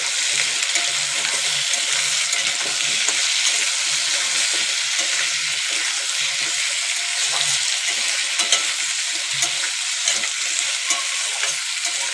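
Taro and potato frying in a pan while being stirred, a loud continuous sizzle with irregular scraping and stirring knocks underneath.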